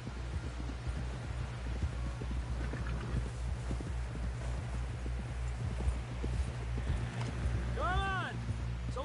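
Horse hooves clip-clop at a steady gallop in the video game Red Dead Redemption. The rhythmic beats run continuously under a low rumbling engine-like drone, and a horse whinny rises near the end.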